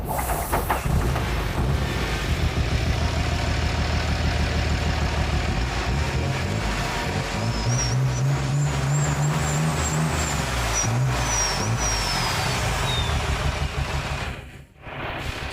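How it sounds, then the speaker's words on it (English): A running engine rumbles loudly throughout, rising and falling as it revs, with a high whine sweeping across the middle; no voices. "Oh, the engine works."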